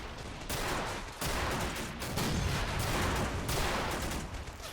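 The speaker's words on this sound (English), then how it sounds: "that high ground is being pummeled by an American LCS" Naval gunfire from an American LCS pounding a hillside in a WWII Allied invasion of Italy video game: a dense, continuous barrage of booming blasts and crackling explosions, loud and unbroken throughout.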